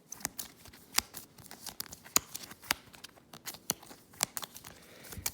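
Quick bursts of crisp clicking and flapping, like a deck of cards being shuffled, fairly quiet and close, with no talking.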